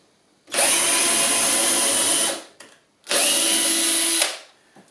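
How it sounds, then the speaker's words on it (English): Power drill fitted with a 6.5 mm bit boring into the end of a wooden baseboard leg, two loud sustained whirring runs of about two seconds each separated by a short pause, close up with no talking. "Drill down a couple of centimetres, longer than you need for the leg"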